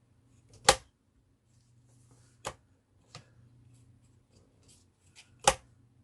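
A paper piece for a Stamperia Winter Tales minibook is trimmed down in a few sharp, crisp snips. Roughly four distinct cuts are spaced a second or two apart, up close against a quiet background, with no speech.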